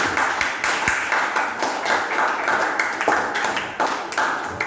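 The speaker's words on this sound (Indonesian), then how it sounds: "Tepuk tangan dulu." Schoolchildren in a Christian religious education class clap together for a group awarded stars, producing a loose, fairly loud run of hand claps with a patterned, rhythmic beat.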